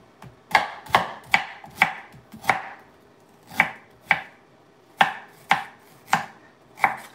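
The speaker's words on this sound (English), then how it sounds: "So now I'm gonna cut the ginger up" A knife cuts peeled ginger into thin slices on a board, with about a dozen firm, resonant thunks coming in two quick bursts separated by a short pause, close and with no voices.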